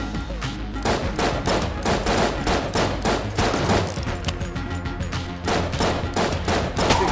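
The Stinger weapon fires in Enter the Gungeon, a steady, dense stream of loud rapid game gunshots that runs without a break from start to end, with no voice over it.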